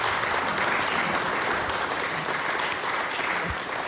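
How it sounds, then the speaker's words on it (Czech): Steady audience applause at a travel-writing award ceremony, many hands clapping in an even, sustained wash at moderate level with no break, a faint thump near the end. "Tak byste si mohli teď tady zájemně zatleskat k tomu úspěchu"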